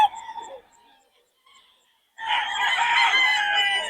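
Roosters crow loudly and continuously at a crowded chicken gathering in Bocaue, following a brief cluck or call and a pause, with hens clucking among the fighting cocks for sale.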